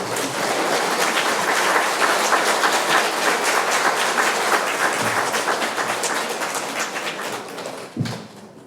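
An audience at a Franciscan academic lecture gives sustained applause to welcome the speaker, a dense, even roar of clapping that holds for several seconds, then thins and fades near the end.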